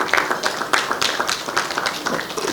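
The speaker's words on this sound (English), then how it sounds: "Give him a warm round of applause." Applause from an audience welcoming a keynote speaker at a product launch event, a brisk spatter of overlapping claps that stays fairly steady and close throughout the short stretch.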